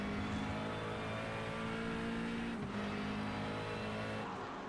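A McLaren race car laps Silverstone in a sim racing endurance game, its engine a quiet, continuous high drone that dips briefly in pitch midway as it shifts, with no voices.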